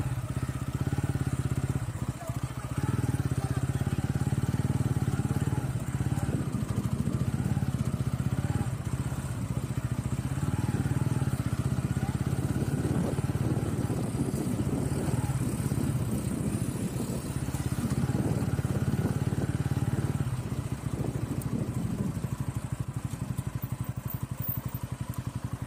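A motorcycle rides along a beach lined with coconut palms, its steady engine drone running loud and close for the whole stretch with no pauses.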